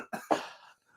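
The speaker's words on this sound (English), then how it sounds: "I can't laugh or I start coughing." A person gives two quick, raspy coughs close up, the second louder, trailing into quiet.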